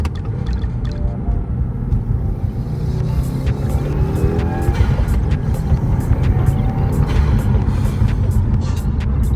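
A 2018 Subaru WRX with a new intake accelerating hard on a cold day, a loud, continuous engine roar with rising pitch and turbo boost noise, heard from inside the car with no talk.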